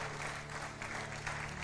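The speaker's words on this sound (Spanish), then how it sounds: "Dale un fuerte aplauso al Rey de Reyes y Señor de Señores." A church congregation breaks into loud, sustained applause for the King of Kings during a sermon, a dense, even roar of clapping filling the hall.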